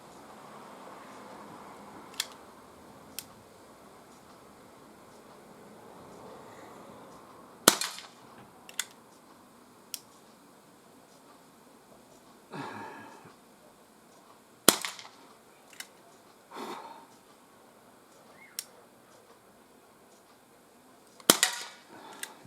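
CP88 air pistol fired outdoors at cans, producing sharp isolated cracks spaced several seconds apart, some followed by faint metallic hits, over a quiet background with no talking.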